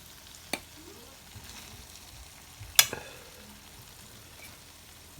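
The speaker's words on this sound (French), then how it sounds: "Nous allons rajouter donc pâte chinoise. Donc là avec une fourchette." Chinese noodles frying over low heat in a pan, a faint sizzle broken by a couple of sharp fork scrapes and taps as the noodles are stirred.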